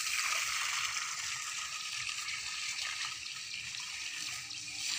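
Water poured onto a rooftop pours steadily in a continuous, close splashing rush with no talk.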